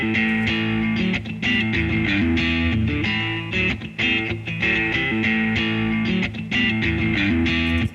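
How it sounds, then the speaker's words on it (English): A 70s classic rock style blues backing track in A plays steadily with sustained distorted guitar chords over bass and drums, full and continuous, with no voices. "I have like an A rock blues backing track, something that's like a 70s classic rock sound."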